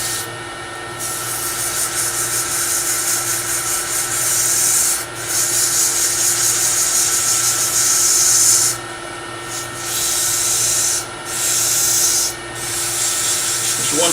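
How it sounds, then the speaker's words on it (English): Sandpaper rubbed against a small turned wooden miniature nesting box, loud close rasping strokes in long bursts broken by brief pauses, no talking. "So now I'm going to sand it."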